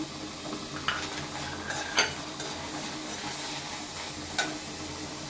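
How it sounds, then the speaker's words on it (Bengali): Chopped onion, garlic and dried chillies fry in oil with a soft continuous sizzle, and a few utensil clinks and stirring scrapes come through. "এখন আমি এই যে পেঁয়াজ কুচি আর এই যে রসুন কুচি যে করে রাখছিলাম এটি এগুলো দিয়ে দিব আর এই যে শুকনো মরিচগুলো দিয়ে দিচ্ছি"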